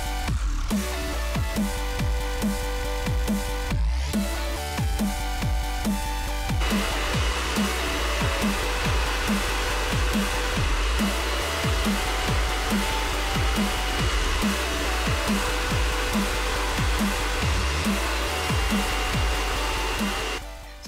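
A hair dryer set to low heat and high speed blows steadily to dry freshly applied nail polish, producing a loud, continuous whooshing hum close by that holds for the whole stretch with no talking over it.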